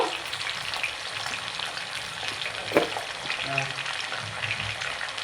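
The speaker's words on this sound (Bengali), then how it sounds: "এটাকে আমি লাল লাল করে ভেজে নেব।" Potatoes with salt and turmeric fry in hot oil for a fish roe curry, giving a steady close sizzle broken by occasional clinks of stirring.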